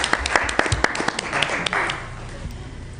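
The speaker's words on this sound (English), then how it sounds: "Aren't you supposed to clap?" A small audience applauds at a city council meeting. Scattered hand claps sound fairly close and quickly thin out into room murmur, with voices heard underneath.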